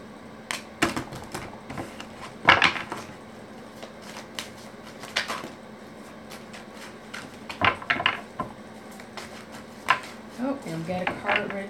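Tarot cards are shuffled in short, scattered bursts of riffling and flicking, with quiet pauses in between and some faint background sound.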